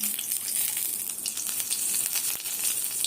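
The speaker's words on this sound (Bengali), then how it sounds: "কারি পাতাতে জল আছে যেহেতু ধুয়েছি, একটু গড়বড় করবে।" Wet curry leaves, freshly washed, hit hot oil in a pan while cooking a flattened-rice snack, giving a steady, close, loud crackling sizzle throughout with a brief sharp pop near the end; no voices.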